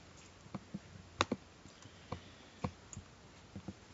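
Quiet, close computer keyboard and mouse clicks tap out in irregular bursts during cut-and-paste work, with short pauses between the sharp clicks.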